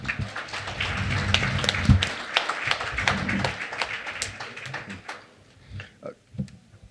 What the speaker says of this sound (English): So please give yourselves another round of applause.